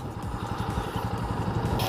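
A carbureted Bajaj CT150BA motorcycle with a five-speed gearbox idles close by, its engine giving a steady low, throbbing putter.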